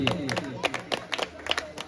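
A crowd claps along at a kabaddi match in Chhattisgarh, the Sankra Kabaddi 2025 mega event. Uneven bursts of hand claps ring out over an announcer's loud voice.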